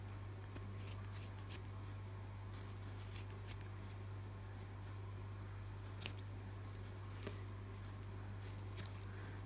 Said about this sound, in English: we're just going to cut through all the loops